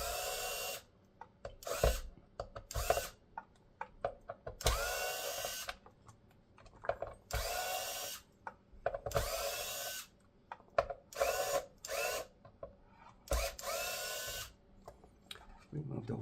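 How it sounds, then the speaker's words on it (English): A small power screwdriver whirs in repeated short bursts, removing screws from an Xbox power supply, close and fairly quiet, with quiet pauses between runs. "it can come out and remove all the screws here"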